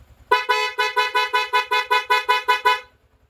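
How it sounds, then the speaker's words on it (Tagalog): A loud aftermarket horn on a Yamaha Sniper 155 motorcycle honks in about ten rapid, evenly spaced blasts for a couple of seconds, then stops; close and very prominent. "bubusina ako. Naka-loud horn lang po ito,"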